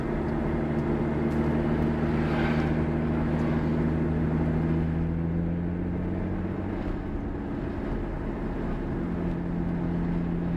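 A 2011 Lotus Evora's engine drones steadily from inside the car as it drives down a residential subdivision road, a continuous low hum with no talk.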